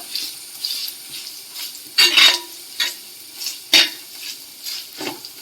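A spatula stirs sautéed ginger and garlic in a pan for a fish curry, with close, irregular scraping strokes, two sharper clanks and a soft sizzle between them.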